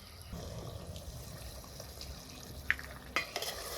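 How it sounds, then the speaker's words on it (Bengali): Mutton with potatoes and ground spices being stirred in a cooking pot makes quiet scraping and soft sizzling, with a few sharper clinks near the end. "নেড়েছি চেড়ে মিশিয়ে আরো কিছু সময় কষিয়ে নেবো"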